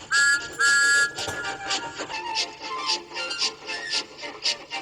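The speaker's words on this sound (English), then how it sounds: "He blew an angry peep, peep on his whistle." Two short, shrill steam engine whistle peeps open the sequence, followed by a busy, rattling clatter with higher tonal bursts that could be more whistling or chugging.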